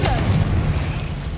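A Confringo fire spell blasts in Hogwarts Legacy against Devil's Snare: a short, heavy, rumbling boom, loud and close, filling the brief moment.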